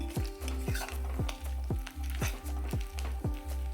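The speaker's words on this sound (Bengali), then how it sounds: "মাছের ডিম এনেছিল সেই ডিমটাই ভাজছি" Fish roe fries in oil in a kadai, with a steady sizzle under rhythmic spatula scrapes against the pan, about three strokes a second, close and loud.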